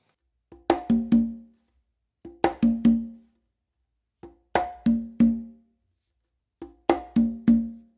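Bomba variation played on three congas with slaps and open tones: four tight clusters of three or four crisp, ringing drum strokes, separated by short pauses, played alone at close range.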